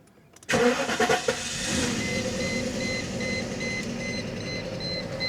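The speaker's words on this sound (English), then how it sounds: "We can now start the car" A Mercedes S500 Coupe engine cranks and catches with a sharp burst, revs briefly in a few surges, then settles into a steady, close idle hum.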